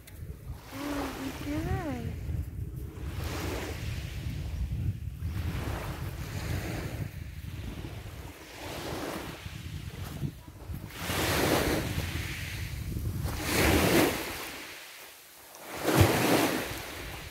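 Waves wash onto Agia Eleni beach in October, surf rising and falling in several surges amid wind buffeting the microphone, with occasional voices nearby.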